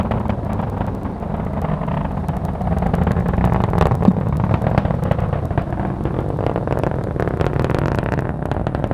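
An Atlas V rocket with its RD-180 engine, launching two Space Force satellites, roars in flight as a steady, loud, dense rumble with gusty wind buffeting throughout.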